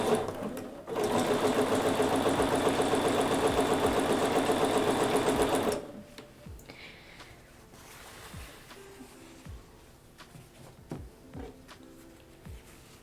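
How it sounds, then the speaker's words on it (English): A sewing machine machine-binds a quilt in a loud, rapid, steady stitching run of about five seconds, then stops abruptly, leaving quieter handling and shuffling sounds. "I always machine bind my quilts"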